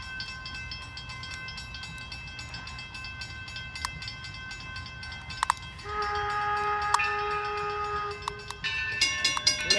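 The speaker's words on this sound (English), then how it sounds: "When the train pulls the whistle, I think it starts going." A train at Greenfield Village sounds its whistle, a sustained tonal blast of about two and a half seconds that follows a quiet rumble of the train, with sharp metallic clicks and knocks scattered around it.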